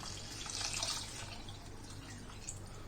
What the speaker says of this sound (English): Stir this well and add in some water.